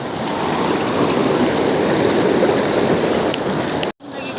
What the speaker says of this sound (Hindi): नदी देख सकते हैं आप अपने उफान पर